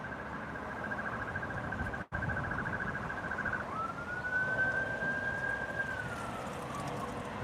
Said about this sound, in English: Fire engine rattling past somewhere